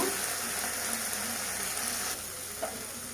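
Spices stirred and fried in a pan, giving a steady close sizzle with faint scraping of stirring, easing slightly near the end.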